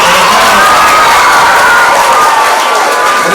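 A school audience at a celebration for students who excelled in the SSLC exam applauds and cheers, a dense, steady wash of clapping and shouting voices that stays loud throughout.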